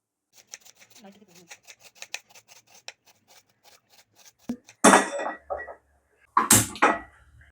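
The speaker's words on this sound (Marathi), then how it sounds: "झाकण लावून आपण हे बाजूला ठेवूया आणि कांदा चिरून घेऊया फोडणीसाठी।" A knife chops onion on a cutting board for a spice tempering in Hyderabadi green chicken, heard as a run of quick light taps followed by a few louder, rougher scraping bursts near the end.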